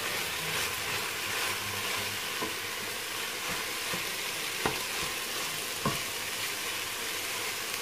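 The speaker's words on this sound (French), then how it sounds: "On fait bien saisir la viande." Ground meat sears in a hot pan with a steady, dense sizzle and a few sharp clicks from stirring, alone and without talk.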